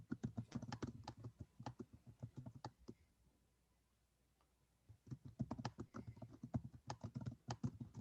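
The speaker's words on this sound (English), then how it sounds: "While everybody's typing in there" Keyboard typing in a room, rapid irregular keystroke clatter in two bursts separated by a quiet pause of a couple of seconds, close and fairly soft.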